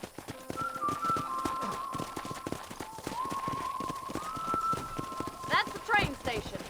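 Horse hooves clip-clop at a rapid galloping rhythm in the Red Dead Redemption video game, steady and close throughout, with a sustained whistling tone and a brief neigh near the end.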